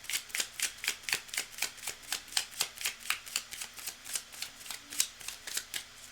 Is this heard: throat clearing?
no